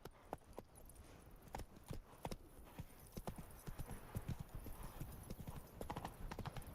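Roach the horse's hooves in a Witcher game clip-clop in a steady, fairly close trotting rhythm, sharp repeated thuds over quiet ambience, with a brief whinny-like touch and no speech.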